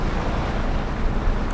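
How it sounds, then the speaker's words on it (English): Steady wash of ocean waves and wind around a boat at sea, a dense continuous rush with wind buffeting the microphone and no voices. "I'm on the ocean."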